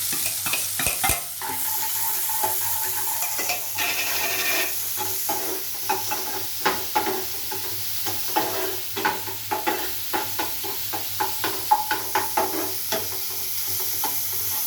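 Chopped onion sautés in a pan with mustard seeds and urad dal for bread podimas, sizzling steadily while a spatula stirs in repeated, rhythmic scrapes and taps close by; no voices are heard.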